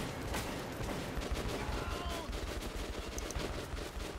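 Continuous gunfire from the video game Metro 2033, a dense, loud rattle of shots running the whole way through with faint voices underneath.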